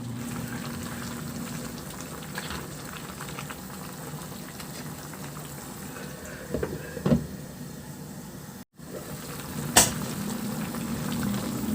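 Chicken soup with pechay simmers in a covered pot, a low, continuous bubbling hiss broken by a few faint clinks and one brief dropout, close and steady with no talking.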